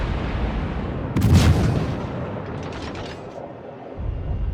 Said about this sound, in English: One salvo out